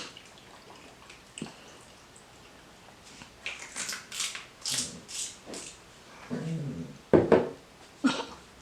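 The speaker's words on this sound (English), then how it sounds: "Dogs talking, cats invading." A dog whimpers and makes short vocal yelps in a kitchen, with cats moving around nearby; scattered bursts come in irregular clusters, some close and sharp, over a quiet background.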